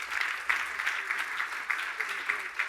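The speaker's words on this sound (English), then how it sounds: "So one more round of applause." Applause from the audience at a New Zealand respiratory conference, a moderate round of clapping with a few sharper hand claps standing out, with some faint talk underneath.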